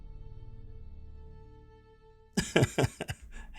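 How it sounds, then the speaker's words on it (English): A man in an indoor recording setting coughs several times in a quick burst after a stretch of quiet hum, the coughs close and fairly loud. "Every episode I end up coughing."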